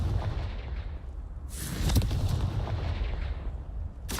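A Confringo blast spell goes off in a Hogwarts wizarding video game, a loud booming burst at the midpoint over a constant rumbling bed, with another sharp burst right at the end.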